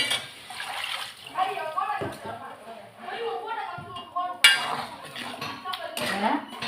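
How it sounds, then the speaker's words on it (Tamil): Tamarind water is poured into okra kulambu in a pan, a soft liquid splash with light clinks of utensils, heard under continuous talking close by. "புளியை ஊற்றிக்கிடலாம்."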